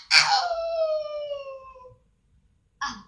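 A long, clear canine howl rises and slowly falls away over about two seconds, loud and close. After a short silence a brief second yelp follows. The animal is called a wolf, not a dog, at a circus act presentation.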